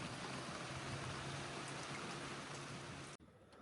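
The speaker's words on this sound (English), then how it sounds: "so it's still heavily overcast, slight drizzle" Light drizzle patters on a boat under heavy overcast, a soft, dense hiss of fine drops that runs steadily and then cuts off abruptly near the end.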